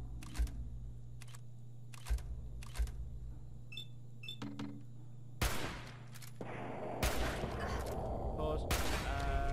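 A hunting rifle in Fallout 4 fires with sharp, loud cracks, about two distinct blasts in the latter half, set among lighter clicks and game ambience.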